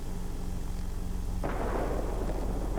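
A bomber's rear gunner opens fire in the World of Warplanes video game, a sudden burst of gunfire over a steady low aircraft engine drone.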